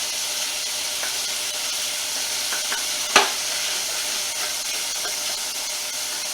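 Pork sausage and paprika frying in a pan for Portuguese caldo verde, a steady close sizzle with one sharp clack of a utensil partway through, no talk.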